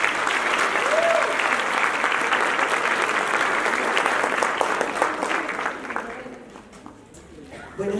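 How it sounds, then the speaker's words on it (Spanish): Warm applause from a seminar audience welcoming a speaker to an education panel, a loud, sustained roar of clapping that thins and fades toward the end. "le recibimos por favor con un fuerte y caluroso aplauso"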